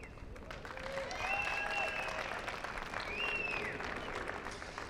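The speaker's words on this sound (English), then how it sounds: "we want to give everybody a huge round of applause" Spectators at a women's singles gold medal pickleball match, the APP Franklin NY Open, applaud in a steady, moderately distant round of clapping, with faint tonal squeals and murmurs beneath it.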